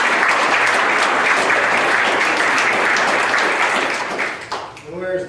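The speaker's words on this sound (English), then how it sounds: "Give them a round of applause" At a town board meeting, the audience gives a sustained, loud round of applause for the Burnt Hills-Ballston Lake boys varsity cross country team; the clapping thins out near the end as a voice begins speaking.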